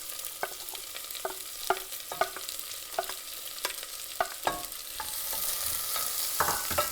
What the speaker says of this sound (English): I'm just going to saute the onions for a few minutes